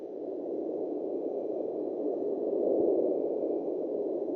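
Hydrophone recording of an underwater sound tied to the MH370 search: a low, steady, band-limited rumble that swells slightly midway, with no voices.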